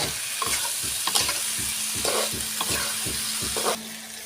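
Green banana and potato pieces sautéed with turmeric for a plantain and prawn curry, rhythmic spatula strokes scraping the pan at a steady pace over a continuous sizzle, close and fairly loud.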